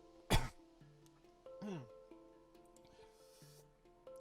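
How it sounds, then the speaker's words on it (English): A single sharp cough bursts out near the start, followed by a second rougher cough a second later, with faint background sounds in between. "Sorry for coughing."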